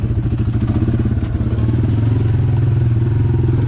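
A Honda XR dirt bike rides a wet forest trail in Capitol Forest, its engine a loud, close, steady throbbing drone with light clatter, heard alone without talk.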